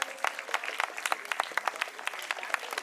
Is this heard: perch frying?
no